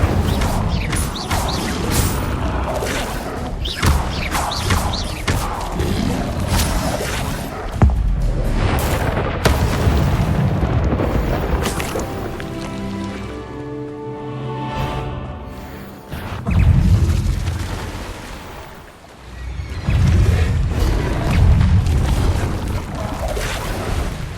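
Incendio fire spell blasts from the video game Hogwarts Legacy come as loud, repeated whooshing bursts and booms amid busy game effects, with a quieter stretch midway before more blasts follow.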